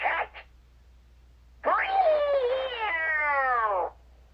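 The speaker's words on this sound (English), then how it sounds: "Meow, said the cat as it chased the little mice away." A talking storyteller toy from 1998, a General Creations baby bear, plays a recorded cat meow: one long, clear, drawn-out meow that bends downward, following a brief burst of narration at the start.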